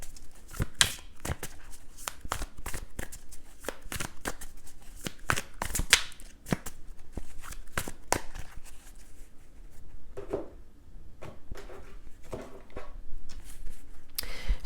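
Tarot cards are shuffled close to the microphone, producing a long run of rapid, crisp riffling flicks and slaps, fairly quiet and with no talking.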